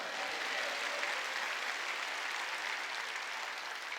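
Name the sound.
congregation clapping in church worship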